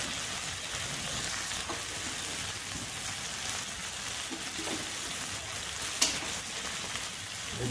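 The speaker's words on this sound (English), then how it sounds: "So I'm gonna transfer this dal" Cooked channa dal tipped into a wok of chicken in clarified butter, giving a steady, close sizzle and hiss of frying that holds throughout with a small clatter near the end.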